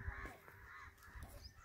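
Crows caw near a lakeside Shani temple, a few rough calls sounding faintly in the open air at a quiet distance.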